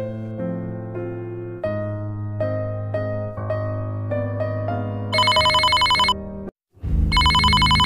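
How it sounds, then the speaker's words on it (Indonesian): A telephone rings in Sakura School Simulator as a synthetic melodic ringtone of stepped electronic notes, followed by sharper repeating trill bursts with a brief gap between them. "Wah, ada telepon."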